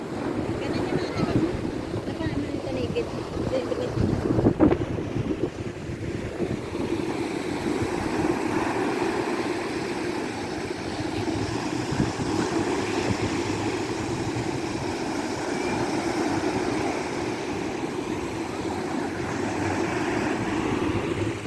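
Steady wind buffets the microphone over a broad rushing wash of sea waves on a beach, with a low rumble beneath and a brief louder gust midway.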